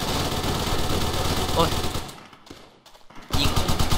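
Rapid bursts of automatic gunfire in the video game Call of Duty: World at War rattle loudly, cut off briefly into near silence, then resume in a quick volley.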